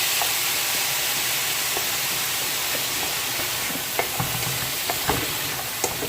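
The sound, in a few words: fish stuffing cooking in a pan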